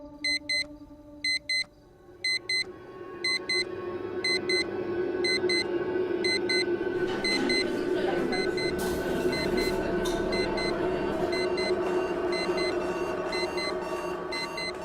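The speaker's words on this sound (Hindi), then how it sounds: "2 बजे अलार्म्स खुद बजना शुरू हो गए, जबकि मैंने तो कोई अलार्म लगाया ही नहीं था।" Alarm clock ringing by itself late at night in a hostel room, a rapid pulsed electronic beeping that repeats in regular bursts and keeps going without stopping, joined by a steady loud droning tone.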